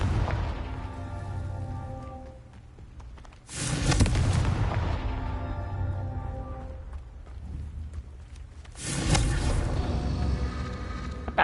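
Two heavy Confringo spell blasts in Hogwarts Legacy, each a deep booming explosion with a long rumbling tail under constant low game ambience.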